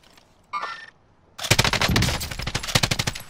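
Gunfire in the video game Warzone: a brief burst of shots, a short pause, then a loud, sustained stretch of rapid automatic fire with sharp repeated cracks, up close and without talking.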